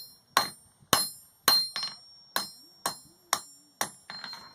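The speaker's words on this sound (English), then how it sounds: "Put that away and hammer it in a hurry" A hammer strikes a hand-forged nail in about nine sharp, ringing metallic blows with an uneven rhythm, each one close and loud and decaying quickly, with a few softer clinks between them.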